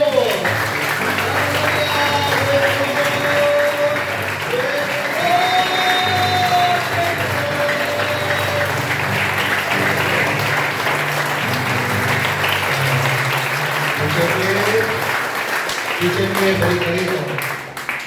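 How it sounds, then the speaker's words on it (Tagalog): An audience at a youth convention claps overhead for God, a dense, sustained applause that fills the room for the whole stretch while someone speaks over it. "Palakpak para sa Diyos!"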